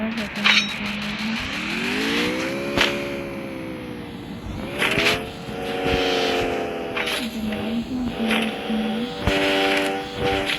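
Vehicle driving in Free Fire: the engine hums, swells as it accelerates, drops back and revs up again across the stretch. It sits close and steady beneath a player's occasional chatter.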